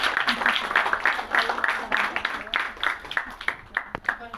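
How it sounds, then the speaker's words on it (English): Audience applause at a hotel Pride Month event, dense clapping from a crowd sustained for a few seconds with some voices mixed in. "can we give them a big round of applause?"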